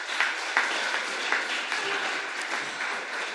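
An audience at a children's VBS magic show applauds together, a steady dense wash of clapping with a few sharper individual claps standing out throughout.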